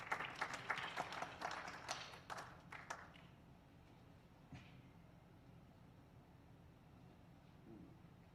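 Audience clapping at a golden jubilee alumni celebration, a burst of hand claps lasting about three seconds that quickly dies away, leaving quiet room tone with one stray tap afterward.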